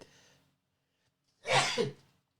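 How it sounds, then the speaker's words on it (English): A single sharp sneeze bursts out loud and close after a faint breath, followed by quiet. "you might hear me sneeze"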